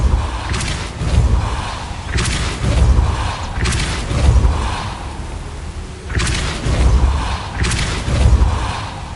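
The Depulso repelling spell lands again and again in Hogwarts Legacy, with six or so deep booming thumps and whooshes at a regular pace over a continuous rumbling ambience, close and loud.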